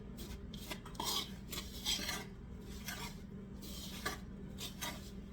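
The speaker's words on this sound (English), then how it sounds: "I'm going to stir them in here, coat them thoroughly" Spoon scraping and rubbing around a mixing bowl while chopped apples are stirred to coat them for pecan muffins, a quiet rhythmic rasping in repeated strokes, close and soft, with no talking.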